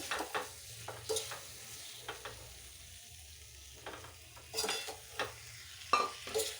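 A spiced mixture of cumin, coriander powder, sugar and salt sautés in a pan, giving a quiet, steady sizzle with repeated soft stirring scrapes spread through the moment, close and fairly faint, with no voices.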